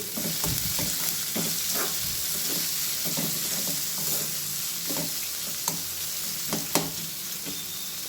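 Green chilies and salt are stirred into hot oil in a pan, a close, steady sizzle with a quick series of rhythmic scraping and tapping stirs, growing sharper near the end.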